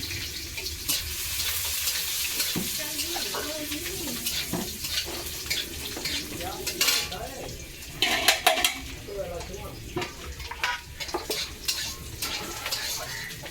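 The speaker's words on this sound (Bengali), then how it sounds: "লাল লাল করে ভাজা করে আমি নিয়েছি" Chopped onion, cumin and dried red chillies fry in a pan over a wood fire, a low sizzle under repeated spoon scrapes and metallic clatter, with brief talk in between.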